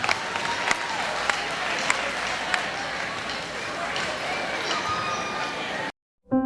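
Crowd applause and cheering in a high school gym during a boys' varsity basketball game, a broad steady wash of clapping with a few sharp louder claps, ending abruptly.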